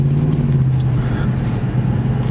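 Car driving along a road in Guerrero near Iguala, Mexico, heard from inside as a steady low engine hum and road rumble with no talking.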